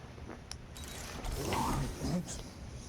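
A door mechanism opens in the Guardians of the Galaxy video game, a short mechanical whir with grinding, ratcheting creaks that swells for a moment, heard close over a low game background hum.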